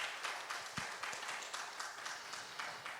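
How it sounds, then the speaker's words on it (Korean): A church congregation applauds after a pastor's sermon at a Friday worship service, scattered clapping that rises and falls in uneven bursts with a brief low thump partway through. "박수 한번 부탁드립니다"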